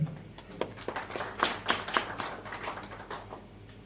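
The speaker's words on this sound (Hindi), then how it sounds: "तालियां बजाइए सर।" Scattered clapping from an audience at an Eid Milap community event, a handful of uneven hand claps with separate sharp peaks, fairly quiet and thin rather than a full ovation.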